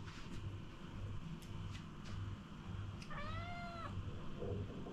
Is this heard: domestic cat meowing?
yes